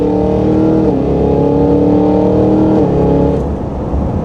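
The engine of a 2023 Cadillac Escalade-V revs loud and close from inside the cabin as the SUV is aggressively downshifted, with a steady growl, audible pitch drops at the gear changes, and a fade as it settles.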